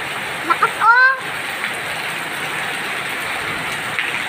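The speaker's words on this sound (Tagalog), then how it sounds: "Ba't ganun yung ulan? Ang lakas!" Heavy rain pours down in Nueva Ecija, Philippines, a dense continuous hiss that stays loud throughout, with a brief voice calling out early on.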